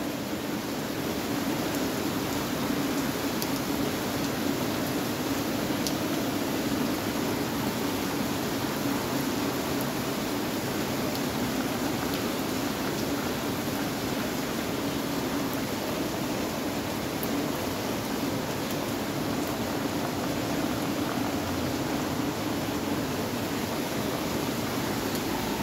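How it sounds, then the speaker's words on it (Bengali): Heavy monsoon rain pours down steadily as a dense, even hiss heard from a verandah, unbroken for the whole stretch. "ভালোই বৃষ্টি চলছে সব।"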